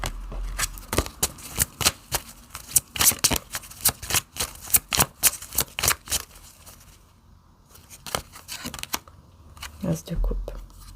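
Tarot cards are shuffled close by in quick, crisp riffling bursts, about a dozen snaps in rapid rhythm before a pause and a few more, with faint soft speech underneath.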